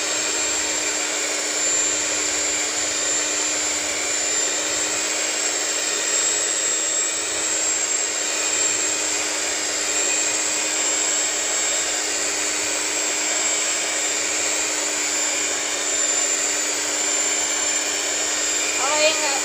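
An electric mixer whirs steadily at high speed, beating donut dough as water is added bit by bit, a loud, continuous hum with no letup throughout.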